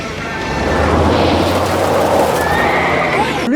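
A horse whinnies loudly and sustains its neigh over a rumbling, busy background with hoof clatter during a horseback ride scene in the Heartland TV series, close and dominant throughout.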